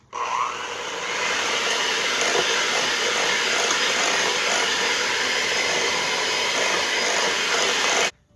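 Electric hand or stand mixer creaming butter with vanilla extract on medium speed for a cupcake batter, a steady close whirring drone that runs unbroken for about seven seconds before cutting off abruptly.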